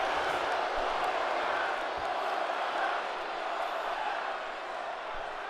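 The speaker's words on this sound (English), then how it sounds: "The ball arena completely shaken as the crowd goes absolutely wild." An arena crowd goes wild in the wrestling video game GTW: Brawl, a steady dense roar of cheering that fills the space and fades slightly toward the end, with a commentator's voice over it.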